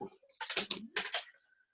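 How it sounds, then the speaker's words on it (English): A deck of oracle cards is shuffled in quick, crisp bursts of papery clicks, two short flurries close up and fairly quiet. "So I've shuffled the cards, attuning with your energies."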